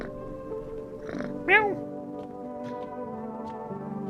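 A video game cat gives a short, bright meow near the middle, set against steady game music and background sound, with a person talking around it.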